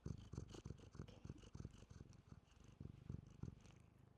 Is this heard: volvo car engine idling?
no